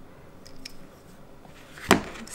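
A blade cuts through a soft rubbery printing block, giving one short, sharp slicing crunch near the end after a quiet stretch.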